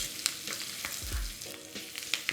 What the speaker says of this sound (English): You can hear the cardamom seeds popping.